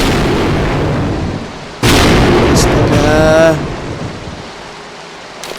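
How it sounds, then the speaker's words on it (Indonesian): Thunder from a close lightning strike on a mountain summit booms loudly and abruptly over steady rain, holding for a couple of seconds before rumbling away, with a voice exclaiming briefly. "Ini berarti udah pasti kena petir ya, guys."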